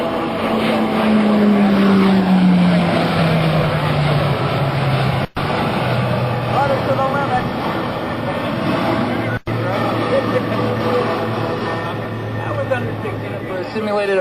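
An E-2C Hawkeye turboprop makes a low pass at 250 knots and 200 feet at a naval air station airshow, a loud, sustained propeller roar with a falling pitch as it passes, under an announcer's voice.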